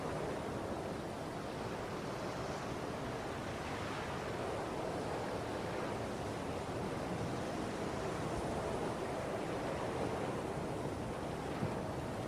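Steady, broad wash of surf rolling continuously, like ocean waves heard close with some wind noise, no distinct breaks and no voices.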